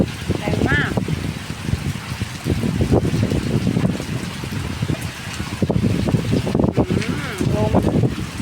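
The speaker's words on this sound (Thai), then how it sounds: "ลมแรงมาก" Strong storm wind blows during the rainy season, a steady low rumble buffeting the microphone through the whole stretch, with voices murmuring under it.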